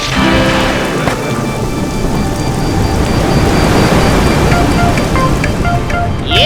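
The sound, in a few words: sudden heavy rain with thunder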